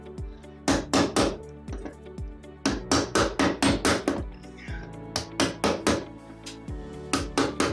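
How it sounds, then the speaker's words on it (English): Sharp metallic hammer taps ring out as paint is cleared from flathead screw grooves on a sash window, coming in quick rhythmic bursts of four to six blows separated by brief pauses, loud and close. "we clear out the grooves in the flathead screws"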